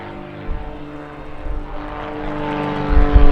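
Aerobatic propeller airplane passing overhead at an air show, a droning engine buzz that swells in loudness as it nears, with rumbling wind gusts low underneath and no talk.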